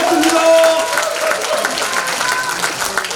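A crowd at a Korean political rally applauds an incoming speaker, a dense, loud burst of clapping that holds steady for a few seconds with a voice carrying over it.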